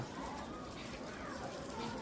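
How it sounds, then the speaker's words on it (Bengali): A dove-like bird coos softly and repeatedly against a steady background hiss. "এই পাখিটার কি নাম আমাদের পরিচিত পাখি"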